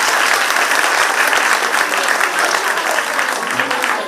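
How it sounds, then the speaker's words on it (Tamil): An audience at a Mahashivratri function at the Shree Mahamayee Mariamman temple in Dharavi claps for dancers, with a loud, dense, continuous round of applause from a nearby crowd. "எல்லாரும் கைத்தட்டுங்க"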